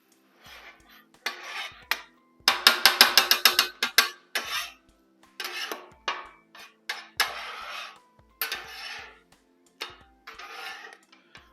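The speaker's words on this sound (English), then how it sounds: "Scramble them up." Eggs being scrambled on a Blackstone griddle, heard as quick bursts of metal spatula scraping and tapping on the flat-top in an irregular, choppy rhythm with short pauses between strokes.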